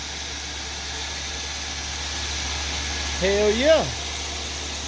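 A Buick Riviera that has just been restarted idles with a steady low rumble throughout. A man briefly calls out near the end.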